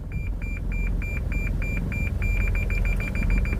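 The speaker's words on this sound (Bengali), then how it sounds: "এখন পার্কিং সেন্সর একটু বেশি শব্দ করতেছে" A car's parking sensor beeps steadily while the vehicle reverses, its repeated tones quickening toward the end over a low engine hum.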